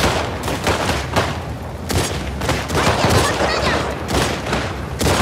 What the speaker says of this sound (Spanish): ¿Esto puedo evitarlo yo o me debo liar a tiros junto a Cristo aquí?